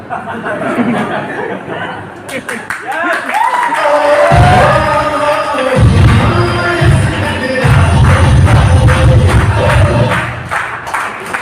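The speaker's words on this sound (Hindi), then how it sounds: "उसको समझ में आया, इसलिए तालियां बजा रहे हैं" Seminar audience in Surajpur clapping, a dense burst of applause mixed with chuckles and chatter, starting after a spoken line and continuing loudly through the rest.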